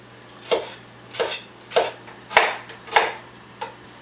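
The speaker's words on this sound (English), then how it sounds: "Garlic, lots of it. Chop it. I'm gonna do a whole regular onion." A knife chops garlic and onion on a board, giving about six distinct thuds spaced roughly half a second apart, close and moderately loud, with no talking.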